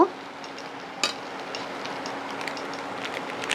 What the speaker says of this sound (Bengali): আলুটা একটু ভাজা ভাজা হয়ে গেছে